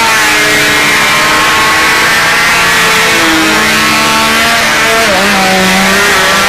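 A loud, droning aircraft engine fills the clip, its pitch wavering and dipping unevenly as it sputters, with constant rushing noise over it.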